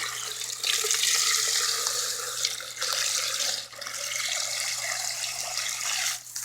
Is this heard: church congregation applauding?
no